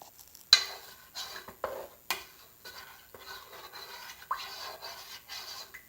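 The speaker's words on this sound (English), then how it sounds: "Let me start by stirring this up." Jujube-ginger tea reduced by half being stirred in a pot: a series of sharp scraping clinks of a utensil against the pot's sides, spaced irregularly, close and fairly quiet with soft swishing between strokes.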